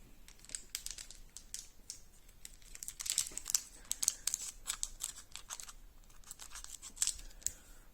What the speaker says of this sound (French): J'ai comme toujours mes petits ciseaux.